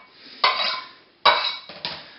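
Knife scraping chopped red onion across a cutting board in three quick strokes, each a sharp close scrape that trails off, with short pauses between.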